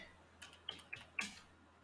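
Three or four light, sharp keystrokes on a computer keyboard, spaced quickly, as a short pip install command is entered, close and quiet with no voices.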